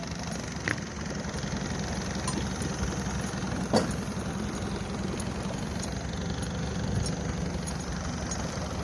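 Longtail boat engine running on the water off Krabi, Thailand, heading from Ao Nam Mao pier toward Railay Bay, a steady droning rumble with knocking pulses, close and continuous throughout with no voices.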